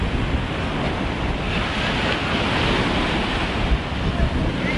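Sea surf washing onto a sandy beach with a strip of medium-sized pebbles at a Turkish resort, a steady broadband roar of breaking waves with wind buffeting the microphone, continuous and fairly loud throughout.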